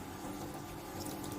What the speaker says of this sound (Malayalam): അപ്പോൾ വിനീഗർ ഒഴിച്ചത് പോരാ